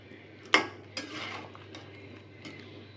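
Beef stir-fried with cucumber in a pan: a sharp metal clank of a spatula against the pan, then a few softer scrapes and stirring sounds over a faint low sizzle, close by and without speech.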